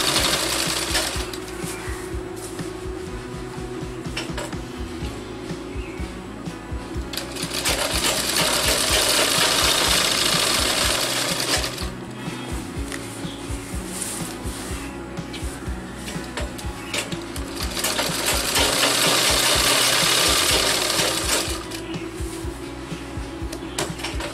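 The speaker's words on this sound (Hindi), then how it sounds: "उसके बाद सिलाई कर लीजिए।" A sewing machine stitches a kalidar salwar in two long, loud runs of rapid, steady needle chatter, separated by quieter mechanical ticking and handling of the fabric.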